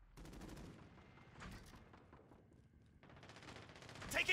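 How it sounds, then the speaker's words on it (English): Video game gunfire in a firefight near a forklift, bursts of rapid automatic shots rattling at moderate distance, fairly faint, with a louder sharp crack at the end. "Taking fire!"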